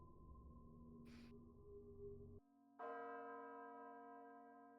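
A bell tolls in the Death Note anime: a resonant ringing tone fades, then a fresh strike rings out with a long, clear, sustained hum, heard alone.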